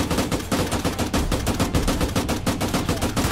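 Rapid bursts of gunfire from World War II weapons in the Arma 3 Spearhead 1944 infantry battle, dense repeated shots filling the whole stretch, loud and close with no talking.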